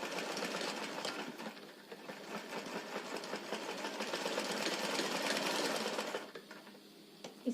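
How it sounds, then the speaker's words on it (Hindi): A sewing machine runs a continuous double line of stitching on old saree fabric being made into a dress, a fast, steady whirring chatter up close that slows slightly near the end. "डबल सिलाई लगाना।"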